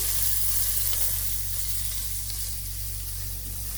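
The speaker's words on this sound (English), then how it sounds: "add curry leaves Fry them for about a minute or so" Curry leaves fry in hot oil for a Kerala fish curry, making a loud, continuous crackling sizzle that holds steady close by without any talk.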